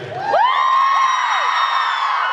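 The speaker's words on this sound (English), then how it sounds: "Give yourself a screaming loud cheer." At a fan convention panel, an audience lets out a loud, screaming cheer that swells quickly and holds at full volume, with shrill whoops and whistles layered over a dense crowd roar.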